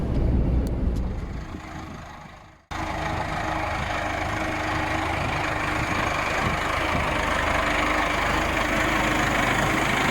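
An MTZ 82 tractor coupled to two rapeseed trailers idles nearby with a steady, low engine drone; the sound drops briefly, then returns and holds an even level.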